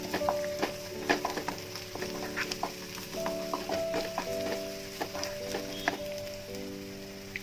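Onions and ginger garlic paste frying in a pan, a steady close sizzle with scattered stirring clicks and scrapes, and a faint tonal hum running underneath.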